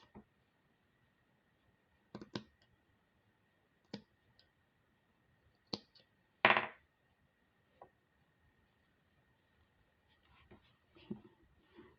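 Scissors snip through thread on a finished jewel loom bracelet, giving a few quiet, sparse clicks and one louder cut, close up with faint handling noise in a quiet room.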